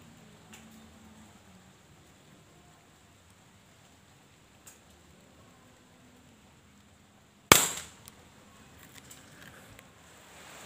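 A single sharp air rifle shot from an old Innova rifle fired with new Exat pellets outdoors during light rain, loud and abrupt with a short decay, set against faint background ambience.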